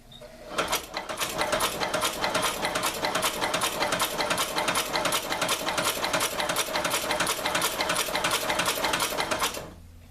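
A Chinese sewing machine converted to electric drive stitches at a steady fast rhythm, its rapid needle clatter continuous and close for about nine seconds before stopping.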